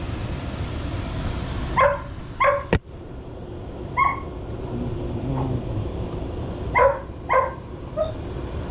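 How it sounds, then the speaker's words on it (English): Dogs bark in short clustered bursts, several loud yips close by over a steady background hum, with a sharp click partway through and no one talking. "Sorry about the dogs"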